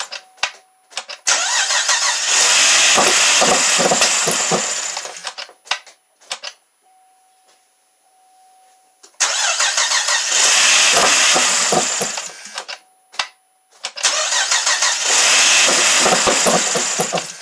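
A Cadillac, Buick or Chevy engine with a P0017 fault being cranked and started repeatedly: three bursts of loud cranking and running close by, each several seconds long, broken by a quiet gap with a faint tone.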